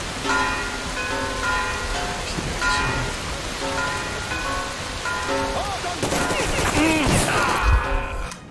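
Gunfire rings out in the video game Metro Exodus, with sharp shots scattered through a dense game soundscape of droning tones and noise that grows busier toward the end.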